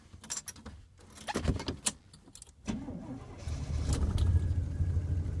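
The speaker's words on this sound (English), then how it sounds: "Good heavens, she's running rough." A 1971 Cutlass S engine on a hard cold start, keys jangling and cranking bursts before it catches and settles into a rough, uneven, loud idle with shaky low rumble.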